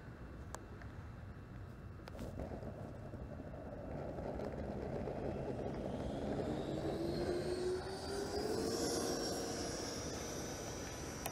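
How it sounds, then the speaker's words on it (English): An FPV radio-controlled jet making a touch-and-go landing, a continuous turbine whine and airflow rush that swells and rises in pitch as power comes back up, steady and fairly close with no talking. "I love practicing touch and goes."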